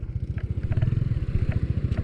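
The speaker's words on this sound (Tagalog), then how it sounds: "Ayun oh, scooter oh." A scooter crosses a river, its small engine putting out a rapid, pulsing putter close by. Light splashing and clatter come through over the steady engine rhythm.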